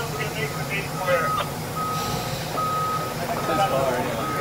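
An FDNY tiller fire truck, about 60 to 70 feet long, backs up with evenly spaced reversing beeps over a rumbling engine, while people talk nearby.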